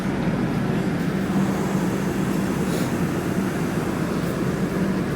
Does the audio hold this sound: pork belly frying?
no